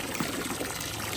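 Water pours into a homemade plastic livestock waterer for pigs, a soft continuous trickling and splashing, heard faintly and alone.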